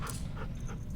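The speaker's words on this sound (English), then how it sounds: "Rosie, she's my dog now." Rosie the dog pants in The Walking Dead: The Final Season, a steady quick rhythm of breathy huffs, close and fairly soft, with no talk.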